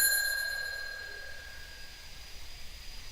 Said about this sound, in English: So that little bell means a new game has come onto the